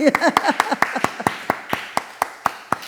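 Rhythmic clapping from a congregation at a Korean church revival service, a steady beat of sharp claps, close and fairly loud, with a short bit of singing or speech near the start.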